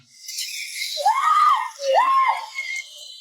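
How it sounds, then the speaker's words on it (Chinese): Two shrill, rising-and-falling screams, loud and close, one after the other. "尖叫着冲出房间"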